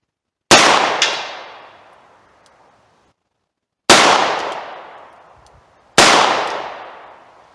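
Three loud, sharp revolver gunshots crack out one at a time with long gaps between them, each ringing into a long decaying echo outdoors.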